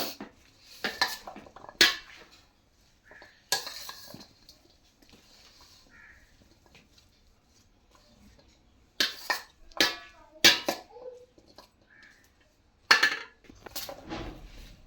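Fruit chaat with white chickpeas being stirred in a bowl, intermittent clinks and scrapes of a spoon against the dish in short bursts separated by quiet pauses, close and fairly sharp.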